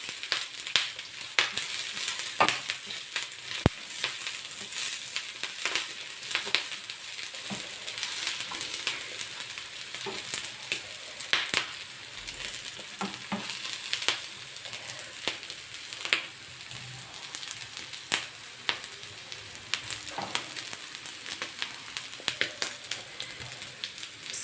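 Capsicum is stirred into omena (small silver fish) frying in a pan, with a soft continuous sizzle and frequent light spoon clicks and taps against the metal, close up and without speech.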